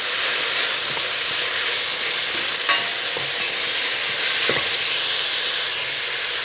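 Onions, carrots, leeks and peppers frying together with sauce in a pan give a loud, unbroken sizzle close by, with occasional clicks and scrapes of stirring.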